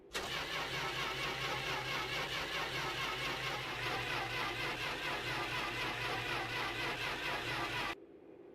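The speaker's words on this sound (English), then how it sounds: "All we had left to do was turn the key and start the car." A car engine in a video game cranks over and over without catching, a loud continuous churning drone that runs for several seconds and then cuts off abruptly.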